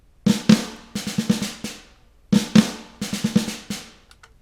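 Triggered snare drum samples firing in place of tom hits during a drum fill, two bursts of rapid sharp snare strikes with short gaps, played alone and fairly loud.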